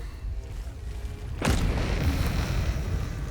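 A fire Myrmidon summoned in Baldur's Gate 3 arrives with a sudden loud boom, followed by a sustained roaring, crackling rumble that stays strong for the rest of the moment.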